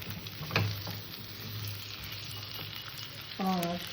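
Mixed vegetables with pumpkin sautéing in a pan for a rohu fish-head and Malabar spinach dish, a steady close sizzle with occasional stirring knocks and a brief metallic clank near the end.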